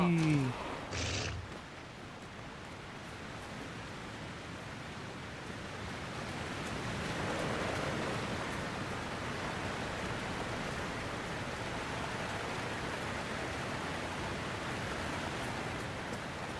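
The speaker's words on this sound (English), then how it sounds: "Ooh, we're going behind the waterfall." A waterfall rushes steadily in Dragon Age Inquisition, a broad, constant roar of falling water that fills the scene and swells slightly as the character passes behind it.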